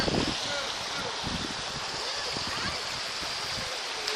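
A stream and waterfall at Cove Springs rush in a steady broadband wash close by, continuous throughout with faint low rumbles beneath.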